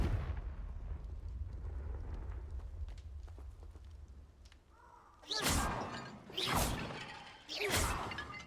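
Three explosive blasts from the Confringo blasting curse in Hogwarts Legacy burst out in the second half, each a loud broadband boom with a crackling tail, following a quieter stretch of low rumble and scattered clicks.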